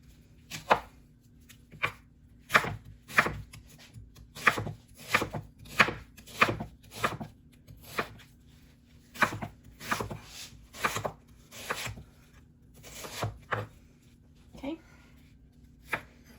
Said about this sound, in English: The more you slice your onion, the more flavor you get.